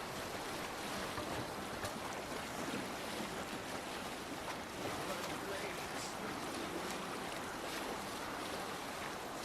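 A Viking longboat sailing on open sea in Assassin's Creed Valhalla, a steady broad wash of waves and wind against the hull, continuous and fairly distant-sounding with no distinct events.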